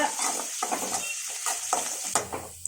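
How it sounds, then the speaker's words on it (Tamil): Onion, dried red chillies and curry leaves fry in hot oil in a pan, with a close, steady crackling sizzle broken by repeated stirring scrapes and light utensil taps. "நல்லா பொன்னிறமாக வதக்கட்டுங்க."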